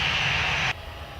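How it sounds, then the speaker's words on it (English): An airliner turns on the taxiway at an airport while waiting for departure clearance, giving a loud, steady engine whine and roar that cuts off sharply partway through, leaving a faint low hum. "I'll just stay here, at least until this plane takes off. Just turning around, waiting for its clearance to depart."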